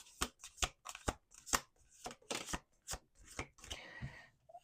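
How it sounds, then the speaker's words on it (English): Close, crisp tarot card shuffling in repeated riffling bursts, ending in a longer softer ruffle as the deck settles. "Let's do 2 more shuffles."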